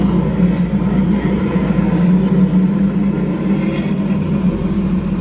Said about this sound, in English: And the engine roars alight.